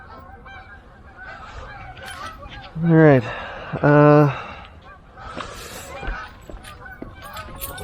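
A flock of geese honks nearby, two loud nasal calls in quick succession with fainter honks around them, as someone says a word amid light outdoor background noise.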